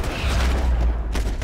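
Heavy gunfire in the video game Max Payne 3, a loud, dense, booming burst filling the whole short moment.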